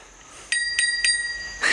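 An e-bike's handlebar bicycle bell rings four times: three crisp, evenly spaced dings followed by a brighter final ring, close and clear with no voices.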